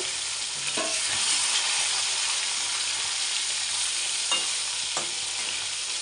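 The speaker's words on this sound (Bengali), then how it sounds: "দুইবারে ভেজে নেব।" Fish frying in a home kitchen pan gives a steady, loud sizzle and hiss throughout, with a few brief scraping stirs breaking through.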